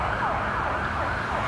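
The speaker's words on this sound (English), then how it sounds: "What are you going to do about this ambulance?" Ambulance siren wailing loud and close as it speeds past a car on a city street, its rising and falling tone repeating over steady road noise.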